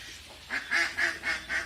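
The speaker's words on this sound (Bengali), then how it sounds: "এখানে প্রায় আমাদের দুই হাজার কোয়েল আছে এবং বাচ্চা হিউজ পরিমাণ আছে" Quail on a farm with about two thousand birds and many chicks give a run of five short, evenly spaced chirping calls, fairly close and clear over a quiet background.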